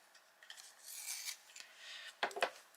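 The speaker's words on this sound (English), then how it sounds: "So I'm going to grab the walnut brown. I'm going to sharpen it" A walnut brown coloured pencil being sharpened close up, giving soft scraping, rasping strokes that build to a couple of sharper grinding bursts near the end, with no talking.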